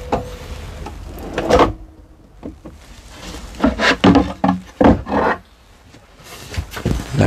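Wooden drawers in the kitchen of a Mobilvetta Tecknoline 64 integral motorhome are slid open and shut, giving a series of close rubbing slides and soft wooden knocks with quiet gaps between them.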